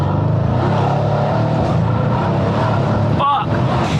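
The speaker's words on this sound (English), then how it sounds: "Let's do a quick pull from second." A Mercedes C63 with a JB4 tune accelerates hard from second gear, its engine a loud, steady, rising roar heard from inside the car with a brief dip near the end.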